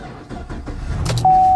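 Old Chevrolet Caprice with a holed radiator being started, quiet clicks and mechanical shuffling before the engine catches and settles into a steady idle, joined by a continuous electronic chime.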